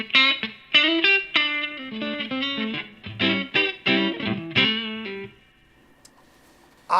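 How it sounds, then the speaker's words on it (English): Electric guitar played through a Star Studio amp with a clean, scooped low-gain tone, a close run of bright picked notes and chords that stops and leaves near silence at the end. "So my favourite guitar tones are always things a bit like this."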